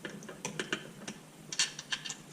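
Ratchet clicks from a socket on an extension bar turned by hand during a Honda CB125E engine rebuild; a quick run of sharp, close metallic ticks in short irregular bursts, fairly quiet, with no talking.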